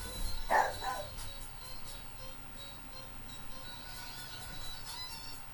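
A small dog barking excitedly outdoors, a few sharp barks near the start then fainter repeated yips and barks in the distance over steady background noise, with no talk.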